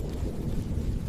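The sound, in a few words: thunder of an approaching storm over the savanna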